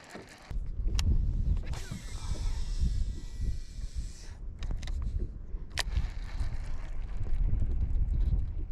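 Strong wind buffets the microphone steadily on a lake during kayak bass fishing in Oklahoma, a loud rumbling roar with gusts rising and falling throughout and a few sharp knocks.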